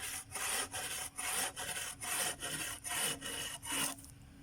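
Rhythmic strokes of a handsaw cutting firewood, about eight back-and-forth rasps at an even pace, close up, ending abruptly.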